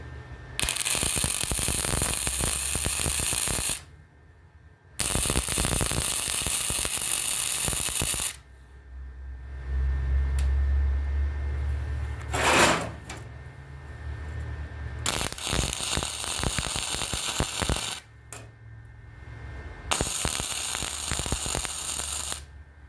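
Tack welding on a metal stand built to hold a terra cotta heater: loud crackling, hissing welding bursts of a few seconds each, separated by short quiet gaps, close up with no talking.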